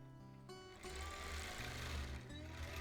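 A sewing machine free-motion quilting a custom quilt hums steadily and closely, its needle rattle speeding up after a brief slower start, with no talking.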